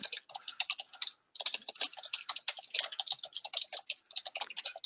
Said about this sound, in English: I better go ahead and type in here what I used or else I'll forget.